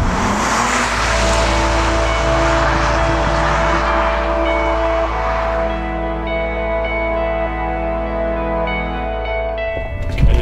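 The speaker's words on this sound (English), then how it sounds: "Look at this, I'm driving a Lotus Carlton." A Vauxhall Lotus Carlton drives with a loud, sustained engine drone that changes pitch as it runs through the gears, heard from close up inside the car, with no talk.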